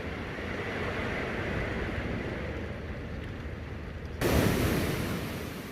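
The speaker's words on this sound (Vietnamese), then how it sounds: "Chỉ có tiếng sóng biển và nhịp thở nặng nề của rùa mẹ." Sea waves wash onto a Con Dao beach at night in a steady, rolling rush, with a noticeably louder, closer surge breaking in toward the end.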